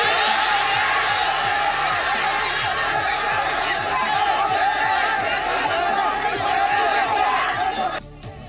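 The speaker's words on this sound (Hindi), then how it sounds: "बेकाबू भीड़ पुलिस वालों से ही भिड़ गई और धक्का मुक्की करती नजर आई" Unruly crowd clashing and jostling with police outside a police station, a dense roar of shouting voices and agitated chatter held throughout, dropping off abruptly at the end.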